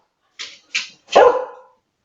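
A dog indoors gives two short high yips and then one fuller, louder bark, each sharp and close, with silence between.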